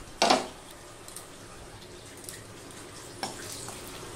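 Dried chillies drop into hot oil in a Bengali brinjal dish, giving a short sharp sizzle burst at the start that settles into a faint, quiet crackle with a few small pops.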